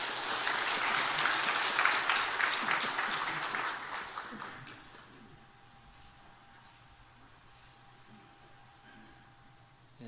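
Church congregation applauding together in a worship service, a dense steady clapping for about five seconds that then stops, leaving a quiet room.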